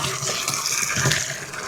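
Liquid (panchagavya) being poured into a 200-litre drum that holds about 150 litres of water, giving a continuous splashing gush close by with no talking.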